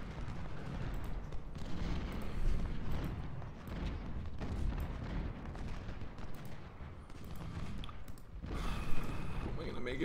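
Musket volleys in the Ultimate General: Civil War video game, a dense crackle of rifle fire and booming shots rolling continuously through a wooded battle, with someone talking over it.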